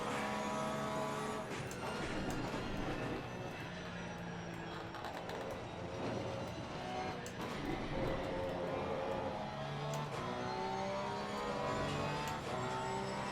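Race car engine in the sim racing game Assetto Corsa Competizione drones steadily throughout, rising and falling in pitch with revving and gear changes, loud and continuous with no talk.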